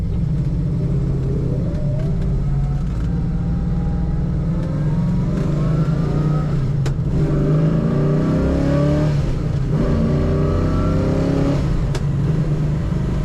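A 1970 Dodge Challenger R/T with a four-speed manual revs its engine in a steady, loud, close rumble that rises and falls over about thirteen seconds, with no talking.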